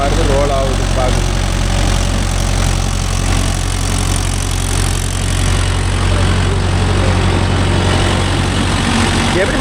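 Mahindra Yuvo Tech Plus 585 DI 4WD tractor engine pulling a 42-blade rotavator through very wet soil, a loud steady low drone running throughout with no break.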